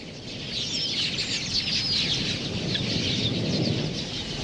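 A huge flock of quelea birds gathers at shrinking water holes in the Okavango, making a thick, constant wash of high chirping and twittering from many birds at once over a low rushing background.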